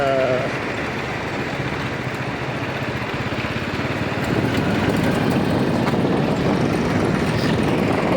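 A tractor engine runs at an onion market in a steady, loud, continuous drone that fills the whole stretch. Broadband noise and a faint hint of bleating sound like animals sit under the engine.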